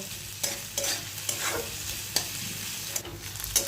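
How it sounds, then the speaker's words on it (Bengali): Chopped onion sizzles steadily in oil on a gas stove for a veg Manchurian, with repeated scraping stirs of a spatula breaking through the continuous frying hiss. "পেঁয়াজ কুচিটা দিয়ে গ্যাসের ফ্লেমটাকে একটু বাড়িয়ে দেবো"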